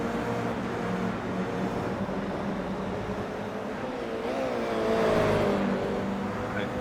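A Toyota GR86 race car accelerating on the circuit at Gilles Villeneuve. Its engine drones steadily with a rising whine, and the revs climb near the end. No talk is heard.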